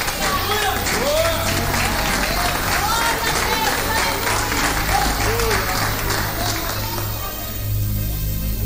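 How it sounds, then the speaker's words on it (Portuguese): A church congregation applauds at a Brazilian evangelical service, steady dense clapping filling the room for several seconds, with voices and cheers mixed into the crowd noise. "aplauda ao Senhor Jesus, por gentileza."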